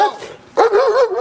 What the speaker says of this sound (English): Why is there a vicious dog in my car?